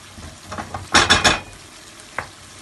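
Egg korma being stirred in a pan, a short burst of three scraping strokes against the metal with a light sizzle, close, followed by a single faint knock.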